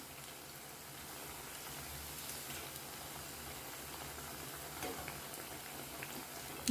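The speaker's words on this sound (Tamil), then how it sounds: "நம்ம ஒரு மிதமான ஹீட்லேயே வச்சு ஃப்ரை பண்ணிக்குவோம்" Rice flour and curd appalam frying in hot oil over medium heat, a steady soft bubbling and crackling hiss running evenly throughout, fairly quiet and close with no talking.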